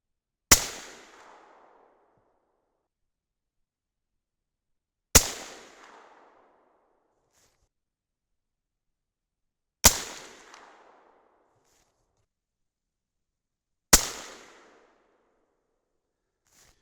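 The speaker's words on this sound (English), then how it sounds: "that was 5 perfect shots, and it looks like a pretty good group too" Four sharp, loud 6.5 Creedmoor rifle shots fired with Reloader 26 handloads, evenly spaced about four to five seconds apart, each a crisp crack followed by a short decaying echo, with no talk between them.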